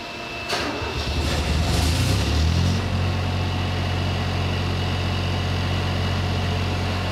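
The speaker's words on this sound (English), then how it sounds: "We're going to start that engine for you now." A Kubota four-cylinder diesel generator engine cranks briefly, catches and settles into a steady, loud low idle that carries on without pause to the end.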